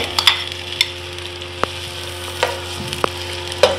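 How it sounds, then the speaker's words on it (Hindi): Sliced onions for biryani sizzle in hot oil, a steady low crackle with occasional sharp ticks and clinks of a spoon against the pan, close and fairly loud, no talking. "इसमें मैं सबसे पहले शामिल करूँगी ये प्याज इस तरह से स्लाइस काटी हुई मैंने रखी है"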